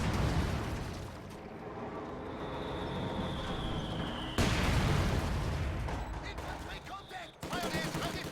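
Mortar fire in a World War II strategy video game, with a chaotic battle mix of booming impacts, crackling gunfire and rumbling blasts, loud and dense with sudden cuts between bursts.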